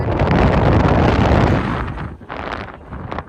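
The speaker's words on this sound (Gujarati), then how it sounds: "પવન બહુ વાગે છે." Loud, buffeting wind roars across the microphone on a sandy seashore at Mahuva, strongest at first, then gusting more unevenly with short dips.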